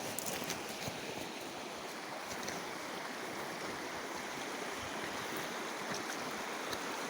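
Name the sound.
flowing water of Indian River, Alaska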